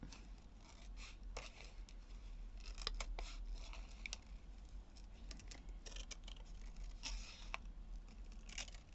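Scissors snipping out a paper index card in a craft session, a run of short crisp cuts in uneven rhythm, close and fairly quiet over a low steady room hum.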